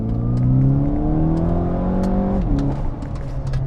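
A VW GTI engine, held in second gear in manual mode, is floored from about 3,000 RPM, giving a loud, close, rising rev that drops sharply at a shift, with no talk.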